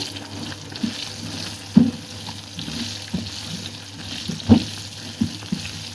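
Spices fry in a pan with a steady close sizzle, broken by a few sharper clinks and stirring knocks, with no voices.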